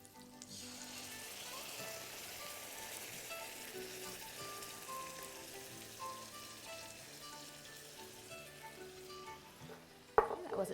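Crushed tomatoes, about 28 ounces from a can, pour into a hot pan with meatballs and sizzle steadily, a dense frying hiss with popping splatter throughout, ending in a sharp clatter near the close.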